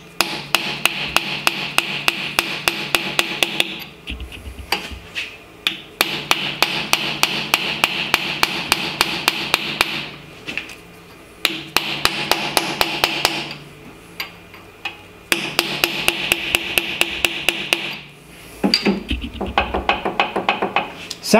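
Rapid hammer strikes drive a bearing onto a GM 10-bolt axle during a rebuild, loud metallic blows coming in dense bursts of several seconds separated by brief pauses, close to the microphone with no talk.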